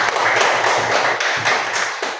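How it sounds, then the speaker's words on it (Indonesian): Children clapping together in a classroom, a loud, close burst of rhythmic group applause with sharp, evenly spaced claps landing about twice a second. "tepuk tangan lagi untuk kalian semua"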